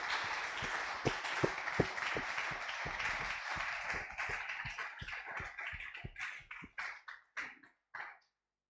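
A church congregation applauding together, a dense burst of clapping that fades into scattered, slowing claps before stopping, fairly close and moderately loud.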